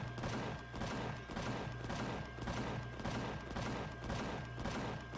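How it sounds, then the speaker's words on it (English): A capital vessel in a space video game fires its guns in rapid, repeating bursts, dense rhythmic volleys of booming shots with a steady tone running beneath, loud and unbroken throughout. "Capital vessel just going nuts shooting some stuff"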